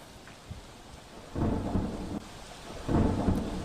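Heavy monsoon downpour in Surat with steady rain and rumbling thunder swelling twice in deep, rolling bursts; no voices.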